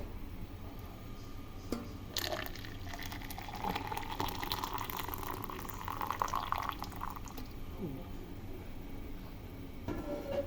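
Tangerine peel tea being poured from a pot into a container, a quiet trickling and splashing stream of liquid that starts and stops with soft clinks, heard close up.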